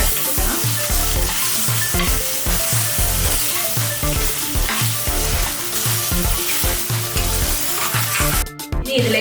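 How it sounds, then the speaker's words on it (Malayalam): Beef frying with onions in a pan for a buffalo curry, sizzling loudly and steadily while a utensil stirs with a regular scraping rhythm, close up and without talking. "ഇനി ഇതിലേക്ക് നമ്മൾ കഴുകി മുറിച്ച് വെച്ചിരിക്കുന്ന ബീഫ് ചേർത്ത് കൊടുക്കാം. ഇത് ഉള്ളിയായിട്ട് നല്ലതായിട്ടൊന്ന് മിക്സ് ആക്കി കൊടുക്കണം."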